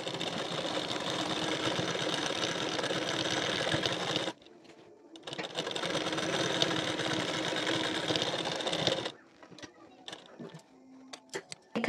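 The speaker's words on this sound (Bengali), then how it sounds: "এখন কলারটি এখান থেকে পুরোটা সেলাই দিয়ে নেব" A sewing machine runs in two long steady bursts, stitching the collar of a katori blouse, with a short pause between and faint clicks and handling after the second burst stops.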